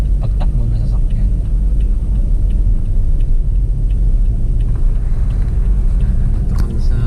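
A Toyota Vios with an automatic transmission drives on a road during a driving lesson, with a steady low rumble of engine and tires heard from inside the cabin.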